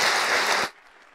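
A live interview-show audience gives a warm round of applause, a dense burst of clapping that cuts off abruptly after under a second, leaving a quiet room.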